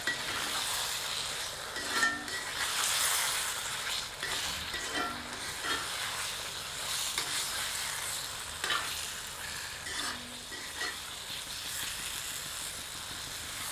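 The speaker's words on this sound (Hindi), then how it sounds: "अब इसे मध्यम आंच पर तब तक भूनते रहते हैं जब तक कि इसमें से तेल पृथक नहीं होने लगता।" Chicken lababdar masala sautéing on medium heat with Kashmiri chilli powder, a continuous close sizzle with repeated spatula scrapes and soft clinks against the pan at an unhurried, irregular rhythm.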